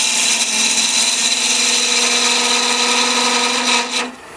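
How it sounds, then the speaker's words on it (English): A handheld power multi-tool grinds on a wood-turning lathe, giving a steady, loud, high-pitched whine with a hard buzzing edge that holds for about four seconds before quickly winding down. "Now down here I'm going to start in with my multi-tool."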